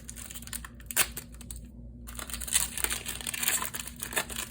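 A Final Fantasy Magic: The Gathering booster pack wrapper being crinkled and torn open up close, making loud, irregular crackling bursts with a brief pause near the start.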